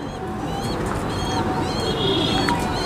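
A pigeon, one of a Rajasthani breed, coos softly in repeated low calls amid steady background noise and other bird sounds.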